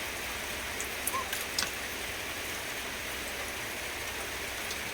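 Steady rain falls in a soft, even hiss, with a few faint isolated drips and taps; moderately quiet and continuous, no voices.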